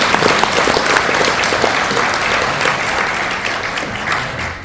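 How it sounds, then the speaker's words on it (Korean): An audience claps at a 40th anniversary ceremony, a dense, steady round of applause from a crowd that stays loud throughout and fades slightly toward the end. "감사의 마음을 담아서 박수 한번 다시 합니다"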